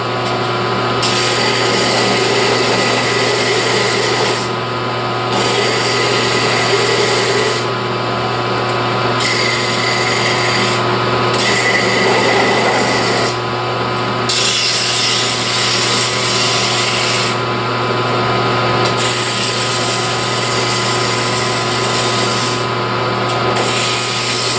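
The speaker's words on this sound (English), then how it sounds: "Now I'm just going to sand them up here quick." A power sander works Baltic birch adjuster pads for a printer table, a loud continuous high whine with steady grinding that briefly dips and resumes several times as the tool shifts across the wood.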